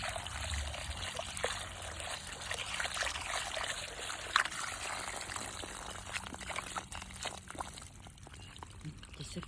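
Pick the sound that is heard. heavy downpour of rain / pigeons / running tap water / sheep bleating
running tap water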